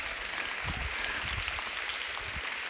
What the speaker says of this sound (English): So give it applause.